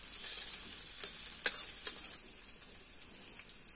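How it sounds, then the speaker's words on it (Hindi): Onions sizzling in a pan while cooking a singhada dish, with a soft, steady crackling hiss and a few sharper pops and stirring scrapes, fairly quiet and close, no talking. "ये है प्याज, इसको भी पकने दो, ये भी लाल पड़ जाएगा।"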